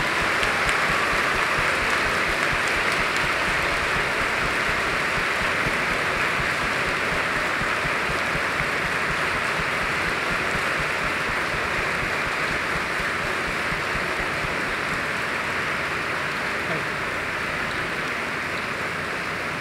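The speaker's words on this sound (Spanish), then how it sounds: "les podamos dar un aplauso aquí a los muchachos que se están graduando" Sustained applause from a large audience at a high school graduation ceremony, a dense, steady wash of clapping that holds at an even level from start to finish with no voices over it.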